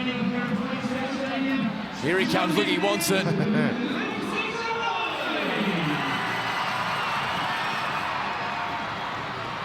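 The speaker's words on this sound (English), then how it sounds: "the Monty Porter stand just all on their feet, cheering" A rugby league crowd in the Monty Porter stand rises to its feet cheering at an NRL match between Cronulla Sharks and Canterbury-Bankstown Bulldogs, a broad roar swelling then easing beneath a commentator's talk.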